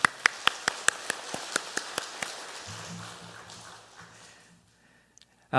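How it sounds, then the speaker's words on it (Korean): A church congregation claps in steady rhythm during a Sunday afternoon praise service, about a dozen crisp claps that thin out and fade into a low room hum. "주님께 박수로 영광 돌리겠습니다"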